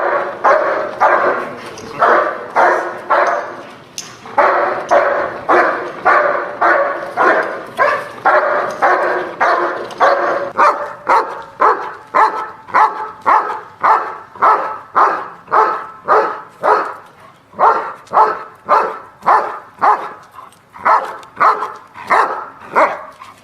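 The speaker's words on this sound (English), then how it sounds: "the dog will circle us, rah, rah, and keep barking at the decoy" A protection dog barks repeatedly at a decoy during training, loud close barks in a quick, regular rhythm that keeps going for over twenty seconds with barely a pause.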